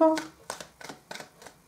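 Tarot cards being shuffled up close, several quick riffling bursts in a row after a brief voice at the start.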